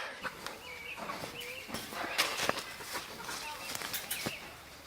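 New chickens inside a coop cluck softly and intermittently, short scattered clucks and rustling with an occasional flutter, fairly quiet and close, with some faint human speech.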